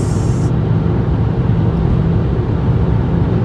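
A BMW F10 525d rolls downhill on a highway, giving a steady, loud broadband rumble of engine, tyres and wind noise that continues without a break.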